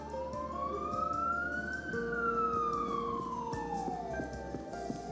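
A wailing emergency siren rises and falls in long sweeps, loud and steady, with traffic rumbling underneath.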